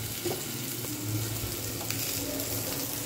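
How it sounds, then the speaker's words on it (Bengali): Eggplant pieces fry in a pan with a soft, steady sizzle close by, fairly quiet, with light stirring knocks and a faint hum underneath. "আর এখানে বেগুনগুলো ভাজা হয়ে গেছে"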